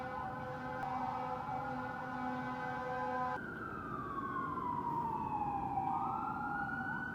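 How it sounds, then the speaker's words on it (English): An emergency vehicle siren wails outdoors at a distance, its steady tone shifting partway through into a slow downward sweep, faint against background noise. "oh, there's a siren going off"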